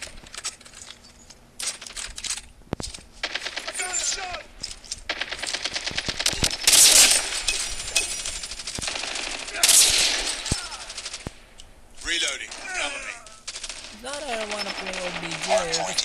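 Gunfire in the video game Call of Duty Mobile: rapid automatic bursts and single shots crackle throughout amid other game effects, with a voice talking over parts of it.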